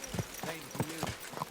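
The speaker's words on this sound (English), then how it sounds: "Is this your first time riding a horse, you moron?" A horse's hooves clip-clop at a walking pace in Kingdom Come Deliverance 2, five or six distinct close hoofbeats in an uneven rhythm with a voice talking over them.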